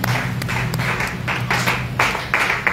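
Church congregation clapping hands in praise during a service, a dense rhythmic run of claps over a sustained hum of voices and music.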